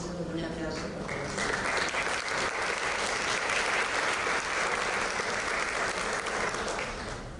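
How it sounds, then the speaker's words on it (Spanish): A crowd claps steadily for several seconds at an academic congress, a full sustained round of applause that swells and then tapers, with a voice briefly heard at the start. "comenzamos con Noé, y eso con un aplauso, por favor."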